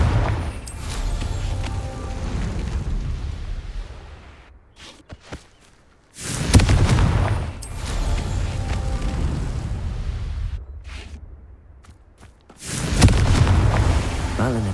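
Confringo blasting-spell explosions in Hogwarts Legacy: three loud booming blasts, each rolling into a long rumbling decay, separated by quieter stretches with faint footsteps and small clicks.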